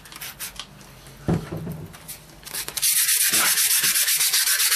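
A knife handle is wet-sanded by hand with soaking sandpaper: faint scraping first, then a close, loud, steady run of rhythmic rubbing strokes through the second half.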